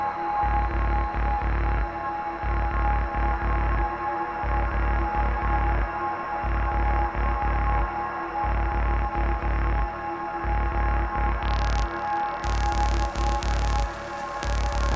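Dissonant ambient synth breakdown from a Soma Laboratory Enner, made of steady droning tones with throbbing low pulses at regular intervals and a bright high layer entering near the end, with no talk.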